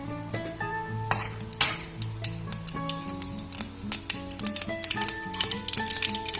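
Mustard seeds popping in hot oil for an Indian tadka, sharp irregular crackles and pops scattered throughout, close and fairly loud over a sustained tonal background hum.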